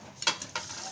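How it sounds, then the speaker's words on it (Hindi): Pieces of mutton frying in a pan, two short bursts of crackling sizzle with a stir between them and a low hiss running underneath, close and fairly quiet. "गोश्त को मैं फ्राई करूँगी अलग से।"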